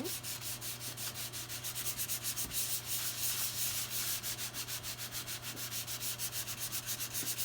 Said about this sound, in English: I've got this nice little sanding block, and I'm going to start sanding.